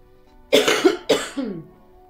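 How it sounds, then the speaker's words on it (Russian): A character in the video game Truberbrook coughs twice in quick succession, two harsh, close, raspy bursts about half a second apart, each trailing off into a throaty rasp. "Чёртов кашель."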